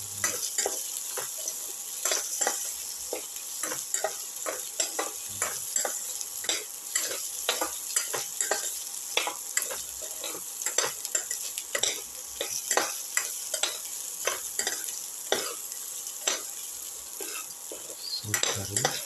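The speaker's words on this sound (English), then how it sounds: "Keep on sauté." Ginger and shallots sauté in a pan for a tomato dip casserole, a steady sizzle broken by frequent scraping stirs of a spatula against the metal, close and fairly loud with no talking.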